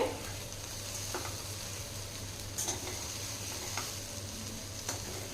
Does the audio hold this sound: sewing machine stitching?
no